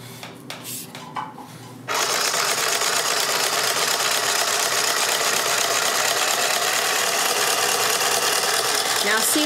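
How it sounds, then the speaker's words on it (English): Serger overlocking the cut edge of wrap skirt fabric, running loud and continuous with a dense mechanical whir after a brief stretch of quieter handling noise. "I'm gonna take this serger and I'm going to put a threading around the edge of this"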